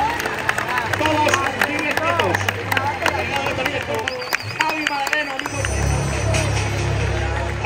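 A crowd at a bull-cutting contest in Dueñas claps and cheers amid loud hubbub, while an announcer speaks over the applause.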